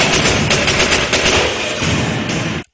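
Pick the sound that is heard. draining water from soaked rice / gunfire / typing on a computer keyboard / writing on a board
gunfire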